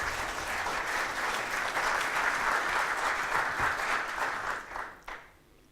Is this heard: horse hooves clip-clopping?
no